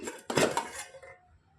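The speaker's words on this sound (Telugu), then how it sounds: "మూత తీసి చూసుకుందాం." A metal lid scrapes and clanks off a pot of junnu (buffalo-milk pudding) with a bright ringing clatter, then fades to quiet.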